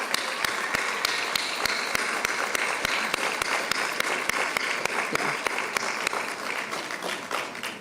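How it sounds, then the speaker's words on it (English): Audience at an Arangetram dance recital clapping after the performance, dense sustained applause filling the hall, with a regular sharp tapping beat running through it the whole time. "let's just give them another round of applause"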